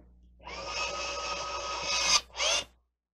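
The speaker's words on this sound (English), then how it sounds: "Go ahead and run my first fastener in." An ASG X-PAQ electric torque driver runs a fastener in: a steady, fairly loud motor whine builds for about two seconds, cuts off, then a short second burst follows before silence.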